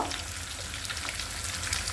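Fish fries in a pan with a brief, soft, steady sizzle and faint crackling, heard alone at low volume.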